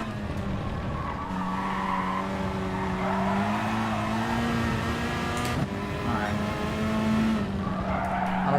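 In Gran Turismo Sport at Laguna Seca, a race car's engine drones through shifting revs as tires squeal and skid under hard braking, with a voice talking over the racing.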